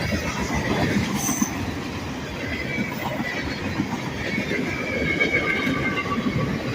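A freight train carrying articulated auto racks and plastic pellet cars rumbles past close by, with continuous rolling wheel noise and occasional faint squeals from the cars.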